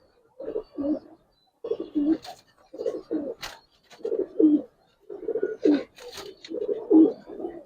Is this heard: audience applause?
no